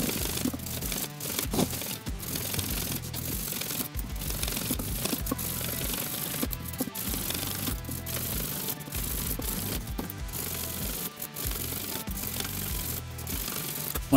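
Fine Frtlzr fret-polishing abrasive rubbed back and forth across worn guitar frets through a fretboard protector, a steady dense scraping that runs continuously and close up, with short strokes repeating in an even rhythm.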